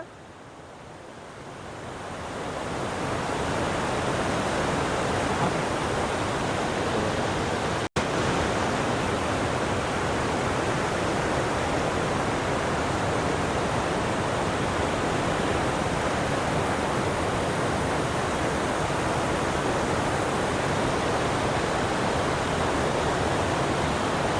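Steady, dense roar of the Gostani river rushing under a cave, loud and unbroken after swelling up over the first couple of seconds, with a single sharp click partway through and no voices.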